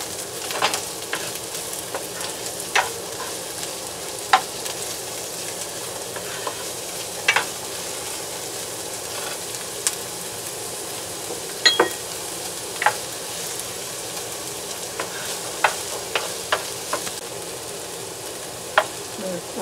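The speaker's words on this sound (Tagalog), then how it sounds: "Lalagay natin ang ating sibuyas." Onions sauté with browned garlic in a pan for beef ampalaya guisado, giving a continuous moderate sizzle with scattered sharp pops and ticks and no talking.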